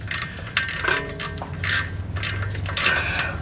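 Ratchet clicks in short bursts as a bolt is snugged by hand into aluminum on a full-size rear-wheel-drive GM transmission, close and fairly quiet with brief pauses between strokes.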